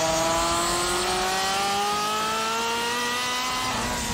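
A fully built twin-turbo 3.4 liter Ferrari 348 engine with ball-bearing turbos and a sport exhaust revs hard, its pitch climbing steadily in a loud, continuous rising wail with no talk.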